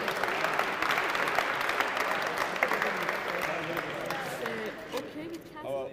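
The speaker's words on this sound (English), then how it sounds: "Give him a round of applause." A crowd at a university engineering design competition claps steadily in sustained applause with voices murmuring underneath, the clapping thinning out near the end.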